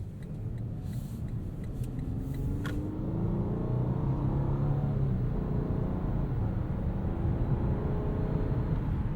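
A 2021 Lexus LS500 F-Sport RWD sedan's engine while driving, a smooth, subdued low rumble with mild rising tone, steady road noise underneath and a few faint clicks early on.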